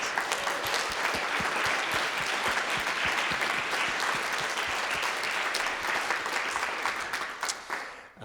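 Dense, sustained audience applause fills a concert hall at a music competition's award announcement, loud and even throughout, then tapering off in the final moment, with no voices.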